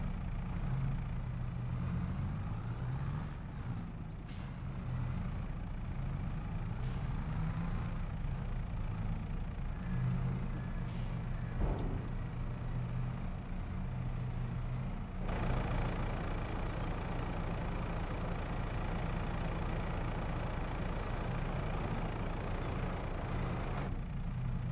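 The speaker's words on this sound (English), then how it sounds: "There is my tractor. It's a JCB Fast Track" A JCB Fastrac 3230 tractor in Farming Simulator 22 runs at a steady, medium-pitched idle throughout, with a constant low engine hum and a few brief clicks on top, and no talking.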